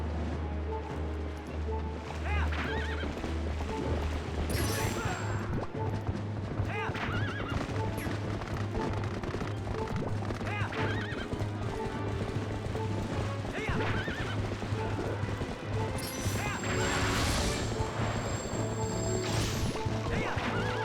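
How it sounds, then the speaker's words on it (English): Horse galloping and neighing in the Zelda Twilight Princess video game, rapid clip-clop hooves under repeated whinnies with crashes and impacts amid game music and effects. "He just ran into me with his horse."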